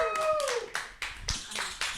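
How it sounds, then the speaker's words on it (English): A short burst of clapping from a few people, loose and uneven, with some voices overlapping. "round of applause, ladies."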